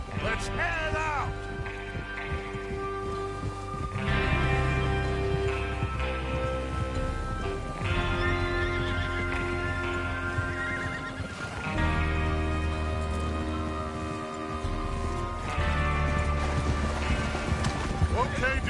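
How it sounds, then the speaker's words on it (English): Horses in the Red Dead Redemption 2 video game whinny repeatedly, with clip-clopping hooves, set against sustained game music and voices. "Get your horses ready."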